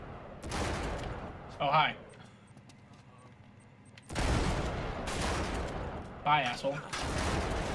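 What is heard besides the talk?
gunfire in Uncharted 3 video game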